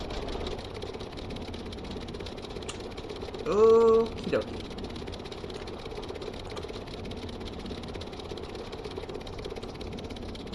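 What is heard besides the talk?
engines of VTOL build running in test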